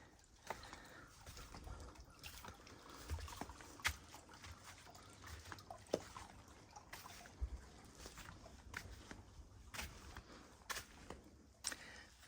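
Water trickles and splashes steadily inside a cave, with scattered sharper drips and splashes standing out from the constant flow.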